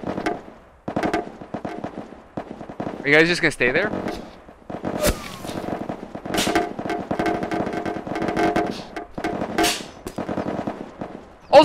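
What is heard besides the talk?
gunfire hitting a house in the VR game PunjiVR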